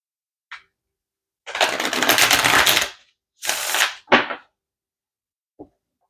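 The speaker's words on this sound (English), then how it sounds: "Okay, one more shuffle." Tarot cards being shuffled: a tiny flick, then two long riffling bursts close together, a short snap, and a last faint tap after a pause.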